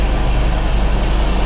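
An Onan generator runs under load from an air conditioner and a dryer, giving a loud, close, steady low-pitched engine drone with constant broadband rumble and no pauses.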